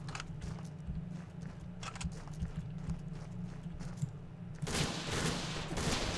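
AK rifle fire in the video game The Legend of Alfur, a string of quick rapid shots over a low steady hum, followed by a louder burst of noisy crackle.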